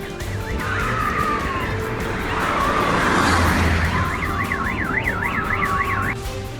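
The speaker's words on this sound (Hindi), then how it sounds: "यूक्रेन की राजधानी कीव में एक बार फिर सायरन गूंजने लगे" Air-raid sirens wail through a street in Kyiv, Ukraine, rising and falling in sweeping cycles, with one switching to a faster warble over steady traffic rumble.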